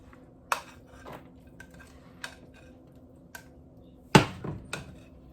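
A slotted spoon mixes a homemade breakfast freezer-kit mixture in a bowl: sparse, light clinks and scrapes with quiet gaps, then a sharper knock and a few quick taps near the end.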